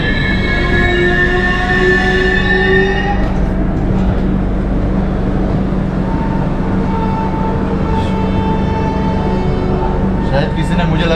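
Howrah–CSMT Duronto Express rolling along the rails with a steady loud rumble of wheels and carriages, high metallic wheel squeals early on and fainter screeches later, heard from on board.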